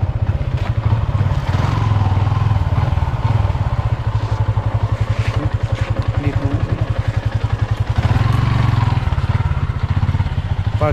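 Motorcycle running near the seaside in the evening, a loud, close engine with a rapid throbbing pulse that rises and settles as it revs, alone without voices.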